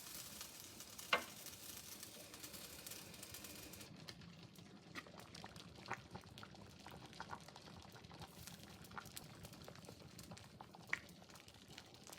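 A covered pot of 15-grain vegan soup simmers on low heat, giving a steady, soft bubbling and gentle sizzle throughout, with a brief clink near the start and occasional small pops.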